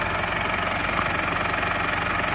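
A New Holland TS110 farm tractor engine runs steadily at a no-till soybean planting, a continuous close, even mechanical drone with a low rumble and no talk over it.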